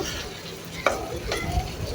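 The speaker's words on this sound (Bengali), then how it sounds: "আমার এক পিঠ ভাজা হয়ে গেছে অন্য পাশও আমি এভাবে হালকা করে" Hilsa fish sizzles softly in a pan with a steady frying hiss and a couple of light scraping clicks.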